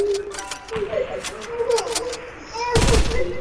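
Burst of submachine gun fire in a first-person shooter video game, a loud broadband crack of rapid shots near the end, following quieter scattered sounds with a voice talking over the action.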